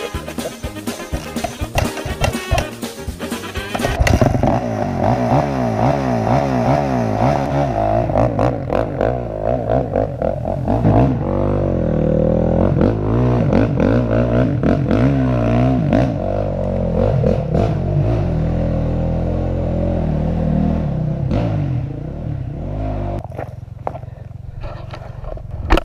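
A Honda CRF450 dirt bike engine on an off-road trail at Chadwick OHV revs loudly and close up, rising and falling in pitch through repeated throttle blips and sustained pulls, with a brief clattering start.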